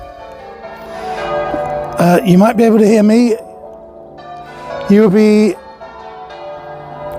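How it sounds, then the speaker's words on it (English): Church bells ring out across a town street in Warminster in two loud bursts of chiming peals, with someone talking nearby in between and over them. "hearing some church bells as well"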